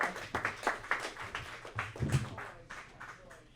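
Audience clapping for a comedian at a small comedy show, scattered sparse claps from a modest crowd, uneven rhythm, trailing off toward the end.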